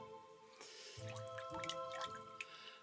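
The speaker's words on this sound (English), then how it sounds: "Look at that water, that's beautiful." Water drips and trickles at St Cynidr's well above the Wye Valley, with small distinct plinks and splashes over a soft running flow, close and quiet.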